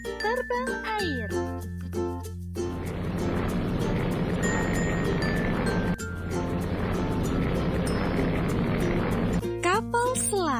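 Seaplane propeller engine with a steady, loud roaring drone that holds for about seven seconds, with bright musical jingles just before and after it.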